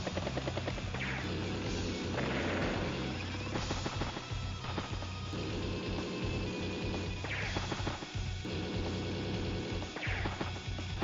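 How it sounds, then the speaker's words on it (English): A meteor strike destroys a tank in the strategy game Advance Wars: Days of Ruin. Dense, loud blasts and crackling booms pound continuously, with rumbling low end throughout. "Meteor does go down, takes out the tank"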